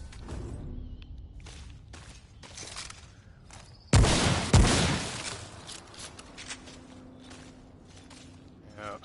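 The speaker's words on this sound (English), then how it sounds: "I'm going to use the coach rifle here" A coach rifle fires in Remnant from the Ashes: two loud, sharp blasts in quick succession amid quieter game noise, with a voice talking nearby.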